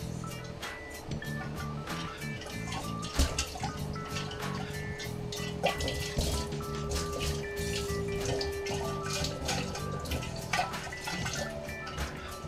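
Hot water being shaken around inside a cleaned, disinfected container for homemade Japanese sour plum wine, with quiet sloshing, dripping and sporadic knocks over a steady low hum.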